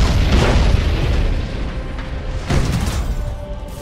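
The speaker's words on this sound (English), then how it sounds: "Main batteries fire!" Heavy naval cannon fire from the main batteries of a warship in the space strategy game Battlefleet Gothic Armada 2: loud, rumbling booms with a second big volley about halfway through, over continuous battle noise.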